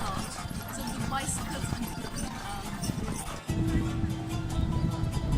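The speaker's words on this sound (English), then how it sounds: "One of our boat trips took us to the Prince's Islands, where we enjoyed a chariot horse ride" Hooves of a horse-drawn carriage clip-clop on the Prince's Islands in Turkey, a steady trotting rhythm heard close under a voice talking.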